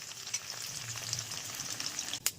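Dried red chillies fry in hot oil, making a steady, close sizzle that crackles softly throughout, with a brief louder burst near the end.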